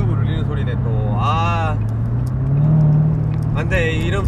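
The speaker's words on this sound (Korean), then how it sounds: "이거 남자들은 또 배기를 워낙 좋아해서 아 또 이거 심금 울리는 소리네" A Chevrolet Corvette Z06 convertible's exhaust rumbles deep and steady close by, swelling briefly in a light rev, while people talk over the engine.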